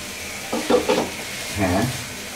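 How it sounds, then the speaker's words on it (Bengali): Dried kachki fish shutki stirred and fried in a pan, with a close sizzle and a few scraping stirs, plus a brief low voice-like murmur in the middle. "এখন একটু নাড়াচাড়া করে দিই, একটু ভাজা ভাজা হোক"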